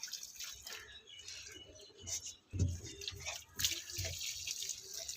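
Water poured onto thirsty potted plants at home, the soil dry: a soft, uneven splashing and trickling, quiet and close, swelling in a few brief louder bursts.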